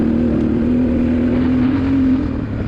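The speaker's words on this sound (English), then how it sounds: "the bike I'm riding, like I said previously, is a 1996 XR600R" A 1996 Honda XR600R dirt bike ridden through the high desert: a loud, close single-cylinder engine drone held at steady speed with a slight rise in pitch, alone throughout.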